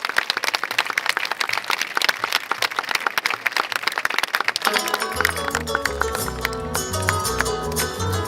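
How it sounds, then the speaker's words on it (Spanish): Applause from a crowd at the Mataderos street fair, dense steady clapping that gives way partway through to loud live folk music with bass and voices. "fuerte ese aplauso para todos ellos."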